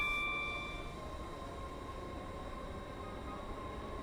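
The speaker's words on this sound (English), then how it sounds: "It's time to accelerate this train to its maximum speed." A Class 80X electric train in a video game accelerates toward top speed, its steady rolling drone and faint whining motor tones holding quietly after a brief opening tone, with no talk.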